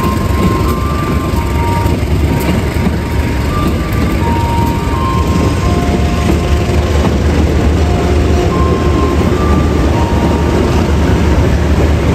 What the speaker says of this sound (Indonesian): Nah ini dia kereta